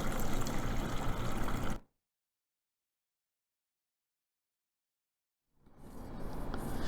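Water being poured into a container sitting on a kitchen scale, a steady, full rushing pour that stops abruptly, followed by several seconds of silence, then the pour resumes and builds again.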